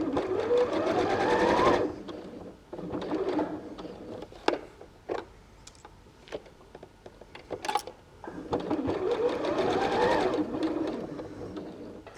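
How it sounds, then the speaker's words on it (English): Sewing machine stitching fabric for a cat-shaped purse: a fast whirring run, then a pause with a few clicks and small handling sounds, then another steady run of stitching, close and clear. "give yourself one little straight stitch in between there"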